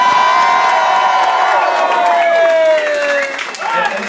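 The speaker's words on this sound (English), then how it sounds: "can I please have a big cheer, round of applause," A festival crowd at a Glasgow music night cheers, whoops and applauds loudly, with shouts and sustained clapping and a high whistle-like cry gliding down in pitch, the noise easing slightly toward the end.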